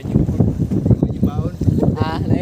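Steady gusty wind rumbles across the microphone, with a voice speaking over it throughout.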